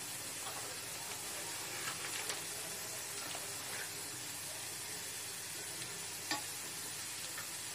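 Spices, including garam masala and biryani masala, stirred into paneer pulao in a hot pan, giving a steady close sizzle with soft scraping stirs and a sharper clack near the end, with no talk.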